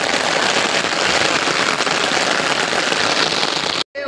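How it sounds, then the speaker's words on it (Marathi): Heavy rain pours down in a dense, constant hiss that stays loud and close throughout, with a brief break near the end and no voices. "तो बघा पाऊस जाम पाऊस येत आहे कपडे भिजतील वाटतं आता"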